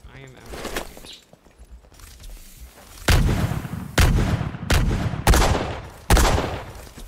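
Video game gunfire from Pirates vs Ninjas arrives as a series of heavy, booming shots spaced about a second apart. The blasts grow louder toward the end, with a player talking faintly under the earlier part.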